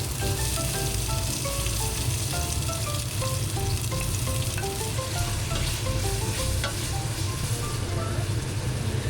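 Onions sizzle steadily in hot oil in a cooking pot for a chicken, potato and water spinach sour soup, a continuous close frying hiss with a soft melody playing in the background.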